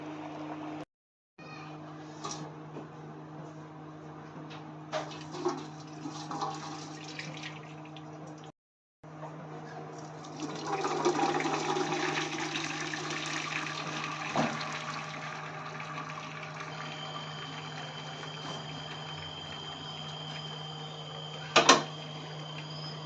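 Water from cooked dal pours through a sieve into a pot, a soft continuous trickle and splash with a few brief dropouts and a faint background hum.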